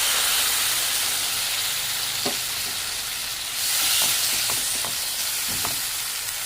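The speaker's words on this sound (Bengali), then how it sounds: "এবার পেস্ট করে রাখা মশলাটা দিয়ে দিলাম।" Spice paste for egg posto fries loudly in hot oil, a dense steady sizzle broken by a few soft scraping clicks as it is stirred in the pan.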